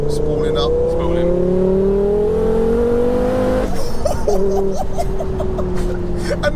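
A 689bhp front-wheel-drive Ford Focus RS engine climbs steadily in pitch as it spools up, then drops and changes tone, heard loud and close inside the cabin while people talk and laugh.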